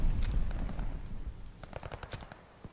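A light machine gun in Call of Duty Warzone fires close and loud, first in a heavy rapid burst and then in a string of sharp separate shots that fade toward the end.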